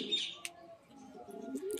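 Full-sira line pigeons coo softly in a loft, low murmuring calls with a couple of sharp chirps and faint wing sounds, brief and close.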